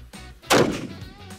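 One sharp, close gunshot from a rifle during a boresight test cracks out and rings off into a short decaying echo, with faint low background noise before it.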